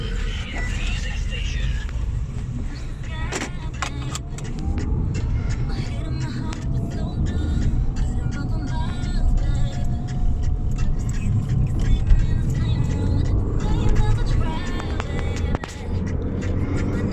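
Mini Cooper being driven on the road after a Super Nano Remetaliser engine treatment, a steady engine and road rumble running continuously under the cabin noise with a few clicks.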